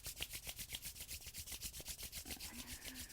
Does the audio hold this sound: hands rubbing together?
yes